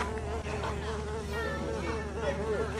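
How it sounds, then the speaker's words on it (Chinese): Flies buzz continuously and fairly close around a pile of costume shoes on a film set, a steady whining drone with shifting pitch as the insects move about, with no talking. "这上面全是苍蝇"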